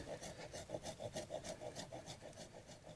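Cut Chinese elm bonsai wood being smoothed with a rasping file, a rapid, even series of rubbing strokes about four per second, close but soft, with no talk.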